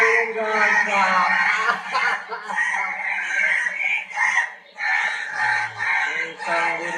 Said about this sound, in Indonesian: Ringtone burung gagak. Burung gagaknya marah.